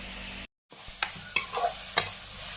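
Fish curry frying in a pan, with a soft sizzle and several distinct scrapes and stirs of a utensil against the pan.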